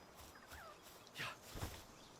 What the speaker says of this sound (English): Little chickens. They make little chicken sounds.